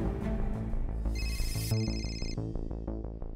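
A phone plays a melodic ringtone of repeating bright tones in a steady rhythm. It sounds close and moderately loud, and no one speaks over it.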